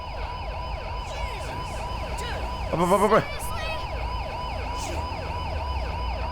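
An ambulance siren wails continuously in the GTA V police mode, a repeating rising-falling tone with a brief louder burst of faster warbling midway, while someone urgently shouts to hurry.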